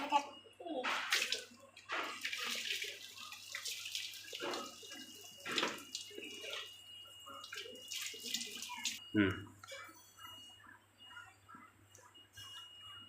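Tap water runs steadily into a child's bath, a rushing, splashing flow over a low hum, with brief voices at moments and a sharper splash near the end.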